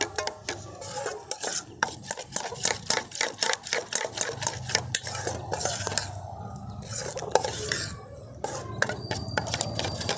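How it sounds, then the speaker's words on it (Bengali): Semolina batter being stirred briskly after Eno is added, a rapid run of scraping, rasping strokes of a spoon against a bowl, close and fairly quiet, with brief pauses between bursts. "এবার ইনোটা দিয়ে আমি খুব ভালো করে মিশিয়ে নেব।"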